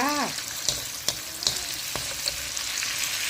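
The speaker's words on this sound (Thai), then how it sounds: "ใส่หอมใหญ่ลงไปนะคะผัดผัดผัดผัดจ้า" Onion and chilies stir-fry in a hot pan with a steady sizzle, punctuated by sharp scrapes and clinks of a utensil at irregular intervals, close and loud, with a brief voice at the start.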